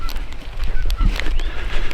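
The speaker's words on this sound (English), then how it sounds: "Obviously you hear the geese back there in the farmer's horse pasture." Geese honk in a farmer's horse pasture, several loud, close calls overlapping across the stretch against an outdoor background.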